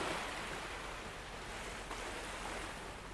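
Ocean waves wash in a continuous, even roar of broadband surf, steady and enveloping with no distinct breaks or voices.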